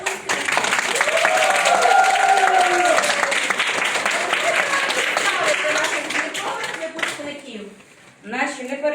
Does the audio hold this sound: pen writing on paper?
no